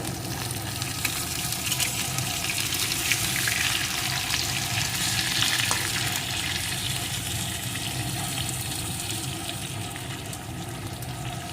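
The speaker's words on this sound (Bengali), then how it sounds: "এখন একটু নাড়া দিয়ে নেব" Sundarban crab curry frying in a pan while being stirred, heard as a dense, continuous close sizzle and bubbling hiss that stays loud and even throughout.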